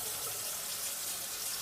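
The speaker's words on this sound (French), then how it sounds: "ouvrez l'eau" Water runs steadily from a kitchen sink tap fitted with a gooseneck water filter, a constant close hiss with no voices over it.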